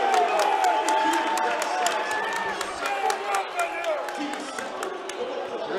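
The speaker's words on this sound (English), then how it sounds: "all the Stratford fans just booing loud" A crowd in a high school boys' basketball sectional gym boos a late foul call with sustained, noisy roar, while commentators talk over it.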